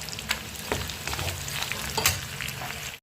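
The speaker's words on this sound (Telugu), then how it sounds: "దీన్ని అయితే ఇప్పుడు ఫ్రై చేస్తున్నాను పప్పులోకి నంచుకోవడానికి." Goat meat frying with curry leaves, a continuous close sizzle broken by intermittent stirring scrapes and spatula knocks, no voices.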